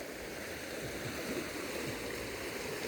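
Floodwater from an overflowing river in a Philippine barangay rushes past, a continuous broad gurgling roar of flowing current that stays steady and fairly close, with no voices over it.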